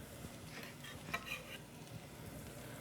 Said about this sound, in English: One to kind of like shallow fry the shallots and the garlic.